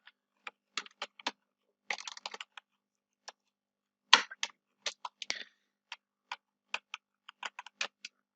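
Code being typed on a computer keyboard, with scattered quiet key clicks in irregular bursts and short pauses, close and faint, with no voices.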